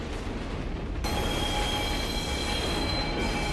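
A moving train in the horror video game Condemned: Criminal Origins rumbles loudly and steadily with squealing wheels and a constant metallic hiss, heard from outside the carriage with no talk.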